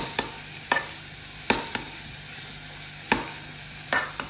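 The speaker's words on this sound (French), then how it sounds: "Donc là on entend les échalotes qui commencent" Shallots sizzle softly in a pan under a low hiss, broken by a handful of sharp utensil taps and scrapes.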